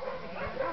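Small female dog giving a brief, moderately close yip or bark, one short burst with a faint whimpering tone.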